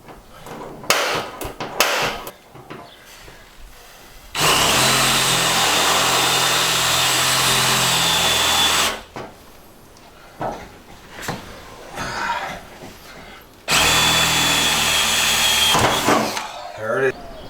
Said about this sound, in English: this is where the pantry is going to be on the inside. So down here, somewhere right around here must be where you're trying to drill through